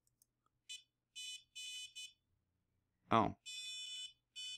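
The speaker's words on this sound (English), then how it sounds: "we also want the buzzer to buzz" An electronic buzzer sounds in several short, shrill bursts separated by silences, with a brief spoken exclamation between them.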